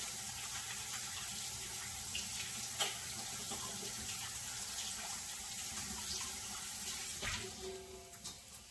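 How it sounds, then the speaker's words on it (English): Hands being washed under a running kitchen tap, a steady broadband rush of water pouring into a sink for the whole stretch, with small splashes and clatters and a brief louder knock near the end. "I'm going to wash my hands"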